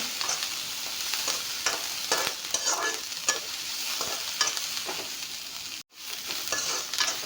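Onions frying with narasingha (curry) leaves in a pan, sizzling steadily while a utensil stirs them in repeated scraping strokes, close and continuous with one brief break near the end.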